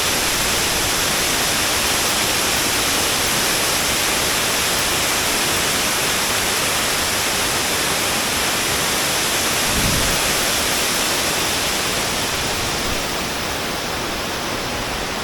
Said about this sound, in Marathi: खरोखरच खूप सुंदर असा धबधबा आपल्याला पाहायला मिळतो आहे